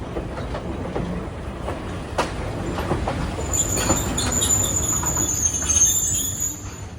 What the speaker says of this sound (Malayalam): പതിനൊന്ന് 20 ട്രെയിൻ ഇതാ എല്ലാ സ്റ്റേഷനിലേക്ക് എത്തിയിരിക്കുകയാണ്.